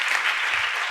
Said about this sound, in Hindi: एक बार तालियां बजा लो आप लोग